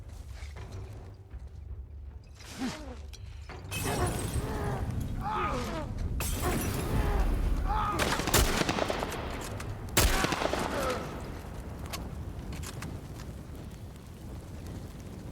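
Bursts of gunfire crack out in a busy mix from the video game The Last of Us, with a few sharp loud shots standing out over a constant low rumble and scattered effects.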